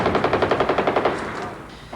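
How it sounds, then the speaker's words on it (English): Rapid machine-gun fire in a conflict zone, a loud regular burst of about a dozen evenly spaced shots that breaks off into a lingering echo and rumble. "The air thunders with gunfire."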